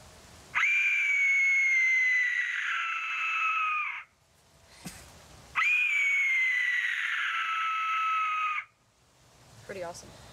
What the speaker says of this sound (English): in case you want a child scream instead